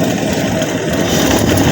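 A freshly swapped-in Magnum 5.2L V8 in a 1969 Dodge Dart runs rough just after starting, giving a loud, steady, unbroken engine drone with no voices over it.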